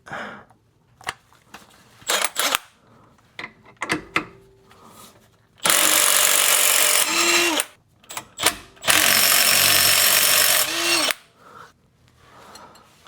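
Tools work on the bottom bolts of a rear differential carrier on a 2015–2021 Subaru WRX STI, with metallic clicks and clanks followed by two long, loud bursts of a power tool running, separated by short pauses.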